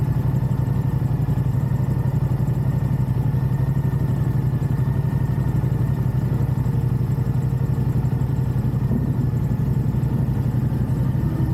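A Moto Guzzi motorcycle engine drones steadily through a demo ride, a loud continuous low rumble with road and wind noise, no talking.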